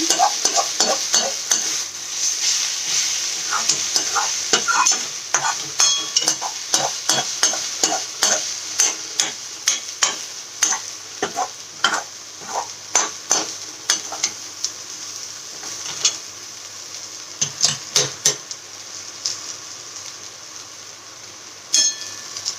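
Radish greens fry in a pan under a bright, constant sizzle, with a spatula stirring and clattering against the metal in a long run of rapid, regular scrapes and knocks.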